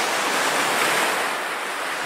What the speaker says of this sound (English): Let's wait and see just what this wave here does